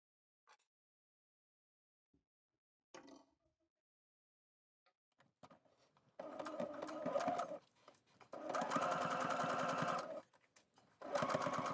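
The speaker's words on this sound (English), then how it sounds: "we're going to stitch from the right side when we stitch in the ditch" A sewing machine stitches stretch bias binding in several short bursts and then longer steady runs of rapid whirring, close and fairly loud, separated by quiet pauses with faint handling clicks.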